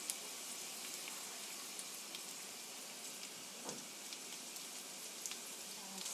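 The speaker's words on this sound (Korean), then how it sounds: "이렇게 해서 앞뒤가 노릇노릇하게 지져주세요." Eleven frozen dumplings pan-fry in a pan, a soft, even crackling sizzle with tiny pops, quiet and continuous with no talk.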